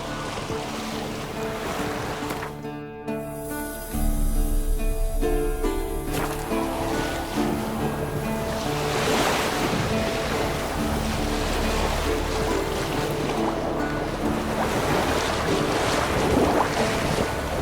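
Steady rush of wind and ocean waves surrounds a sailing boat in the video game The Witcher 3, with sails fluttering, a low rumbling swell and a faint musical tone underneath, continuous throughout.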